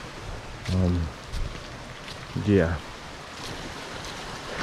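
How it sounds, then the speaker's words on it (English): A muddy creek flows in Black Star Canyon, Orange County, California, a steady broadband rush of water running throughout, with someone briefly speaking over it twice. "water's flowing pretty good though."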